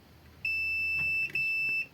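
A high, steady electronic beep sounds twice, with a tiny break between, a multimeter continuity tester checking ground on a satellite TV decoder board close by, with a quiet background.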